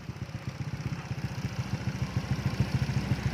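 A motorcycle with a carburetor being tuned runs with a rapid, even, close-up pulsing beat that quickens slightly as the throttle is worked, with no talking.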